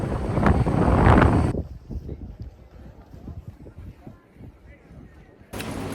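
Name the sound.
wind blowing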